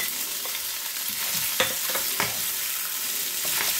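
Shrimp frying in a pan on low heat, with a steady soft sizzle and a few scraping stirs.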